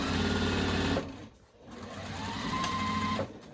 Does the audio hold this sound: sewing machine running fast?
yes